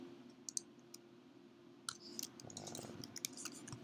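Quiet, sparse computer mouse clicks tick over a low steady hum, a few isolated at first and then coming in quicker clusters.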